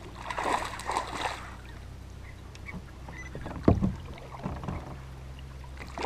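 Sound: kayak launching from the ramp, paddling on water

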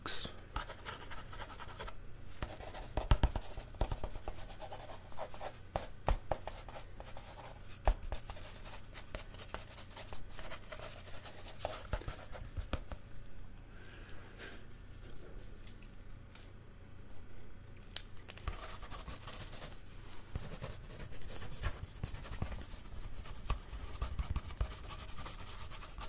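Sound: pencil sketching on paper

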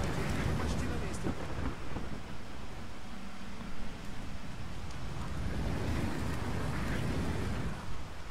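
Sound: rain and thunder in video game Batman: Arkham Asylum

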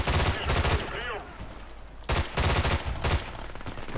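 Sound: L85 rifle gunfire in the video game Battlefield Play4Free

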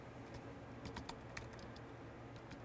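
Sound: typing a command on a computer keyboard

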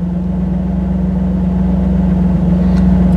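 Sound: car engine idle speed rising

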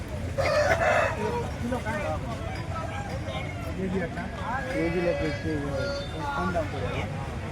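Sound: rooster crowing at Bhadradri Kothagudem hen market

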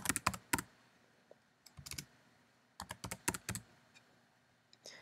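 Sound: typing on a Mac computer keyboard

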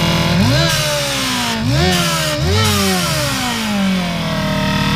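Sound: AMR 500 supercharged engine revving with blow off valve

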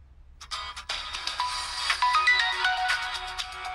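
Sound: mobile phone ringtone in a movie scene

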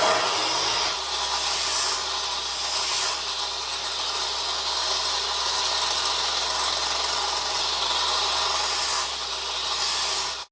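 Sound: grinding a drill bit to sharpen it

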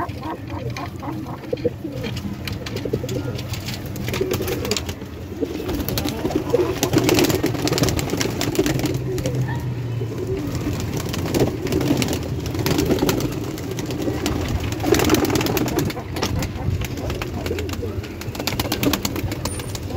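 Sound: pigeons cooing after release from cage

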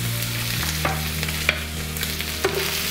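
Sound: chopped onions and green chillies frying in pan

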